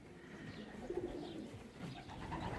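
Racing pigeons coo faintly at their loft as they arrive home from a 427 km race, with soft murmuring calls and a few brief notes over a quiet background.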